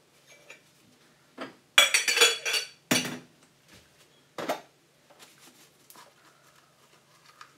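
Dishes and cutlery clinking and clattering during washing up at a sink, a few sharp bursts of knocks and chinks separated by quiet gaps, close by.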